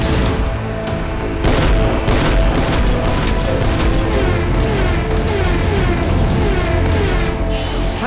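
Cartoon Phantom Laser weapon from a battle car show firing: a loud barrage of rapid blasts and booms with zapping tones, dense and continuous over several seconds, with no talk.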